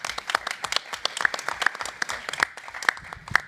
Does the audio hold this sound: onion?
no